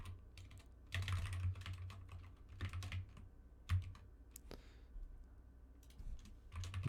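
Steady typing on a computer keyboard while writing login code for a Unity multiplayer game server, with quick clustered key clicks and a few louder taps over a low background hum.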